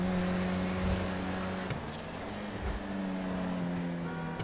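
A Nissan GTR in GTA 5 Online drones with a steady engine hum that shifts pitch as it drives, moderately quiet and continuous, with a couple of brief knocks.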